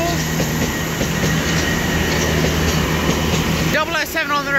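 A Class 444 electric multiple unit, 444018 coupled with 444007 on a Weymouth and Poole service, rumbles steadily past up close for the whole stretch, with a brief high squeal near the end.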